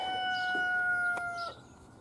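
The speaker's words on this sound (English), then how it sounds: "rooster's loud" A rooster crows once on a farm in winter, a loud drawn-out call with harmonic tones lasting over a second, then fading into quiet outdoor background.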